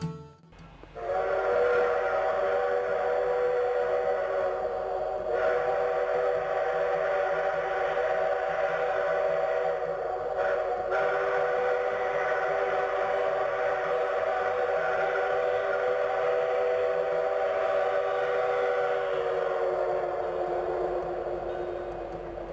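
A train whistle holds a loud, steady multi-tone chord for over twenty seconds over a low rail rumble, sounding close and continuous with no talking.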